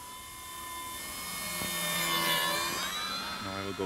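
Electric motor of a Durafly Prime Tundra RC STOL trainer plane in flight, a steady whining drone rising in pitch and loudness as it passes, then shifting tone near the end.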